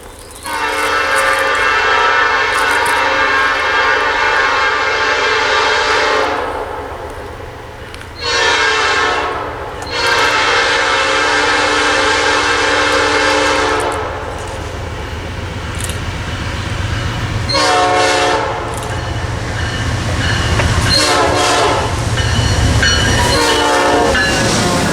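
A Norfolk Southern-powered intermodal freight train rumbles past up close with steady clattering wheels, its horn blaring in several long blasts over the roar.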